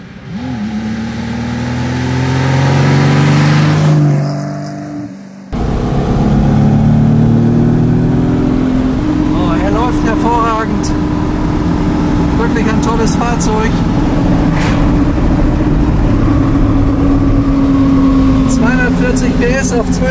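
Ferrari 250 GT Pininfarina Coupé from 1959 with its Colombo V12 engine, driving with a steady, loud engine drone and shifting tones, preceded by a short burst of revving.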